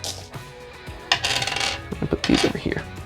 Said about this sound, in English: we're going to take our dice bag and we're going to throw all of our dice back in here